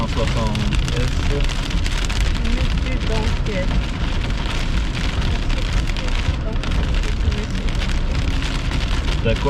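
Steady, dense rainfall drumming on a surface throughout, a continuous wash of heavy thunderstorm rain, with possible hail, and faint voices mixed in.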